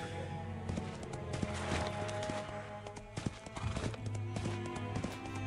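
Horse hooves clip-clop steadily in the video game Identity V, a quick rhythmic run of hoofbeats over a constant low game hum, with a faint word of speech in the middle.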